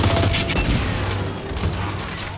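Rapid bursts of gunfire in the shooter Gears 5 crackle loudly for a couple of seconds, dense and sustained like a fusillade with no talking.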